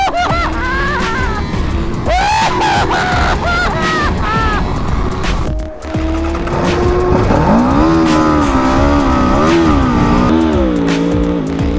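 Aprilia and Honda CBR superbikes start and race from a standing sprint, their engines revving hard through rising and falling gear sweeps, loud and close, with voices over the noise.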